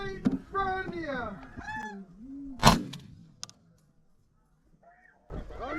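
Snow geese honk in a quick series of nasal calls at close range, broken by one sharp burst, then a stretch of near quiet before more sound returns.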